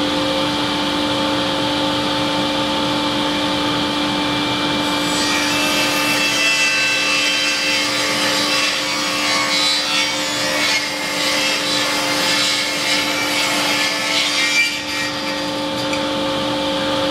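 Continuous back-and-forth hand sawing through wood for an archtop guitar top, a steady close rasping stroke with a faint background hum and no voices.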